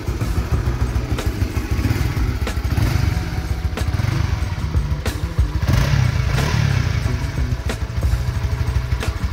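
A restored Honda CB150X motorcycle engine runs steadily up close, a throbbing idle with throttle blips and a few mechanical clicks, loud and without talk.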